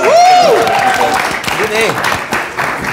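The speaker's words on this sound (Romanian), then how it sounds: "Aplauze" Applause from a studio audience on a comedy news quiz show, a dense patter of clapping mixed with loud whooping and cheering voices over it.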